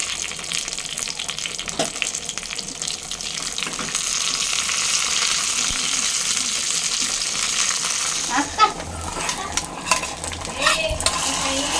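Tempering for drumstick leaf dal sizzles in hot oil, a steady loud frying hiss that builds after a few seconds, with a few sharp clinks of a spoon and stirring near the end.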